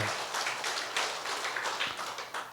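A church congregation at a revival meeting claps in a steady burst of many hands, fairly close and moderately loud, fading slightly toward the end with no talking over it.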